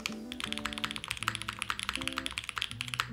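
Keys clatter at a quick, steady pace on a Line Friends custom mechanical keyboard with an O-ring mount, close and crisp, with faint music playing underneath.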